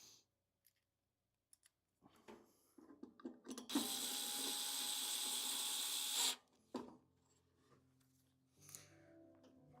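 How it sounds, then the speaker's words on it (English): Screws are driven back into a drum upgrade assembly, with scattered clicks and handling noises and then a loud, continuous whir of a driver lasting a few seconds before more light clicks. "so let's put these screws back in"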